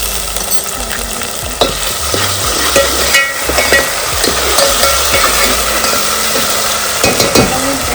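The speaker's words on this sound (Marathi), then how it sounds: "आणि इकडे पॉपलेट फ्राय व्हायला लागले" Pomfret fries in a pan in a Konkan homestay kitchen, a loud, continuous close sizzle broken by occasional metallic clinks and taps, with no voices.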